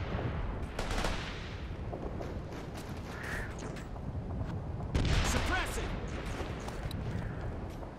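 Sustained rifle and machine-gun fire in the military shooter Operation Flashpoint: Red River, dense overlapping shots and a rumbling battle din throughout, with a heavier burst midway and voices calling out over it.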